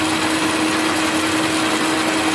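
An Ametek 30 motor runs at full speed on a test bench, a steady, unbroken electric whine with a strong constant hum, loud and close, with no talking.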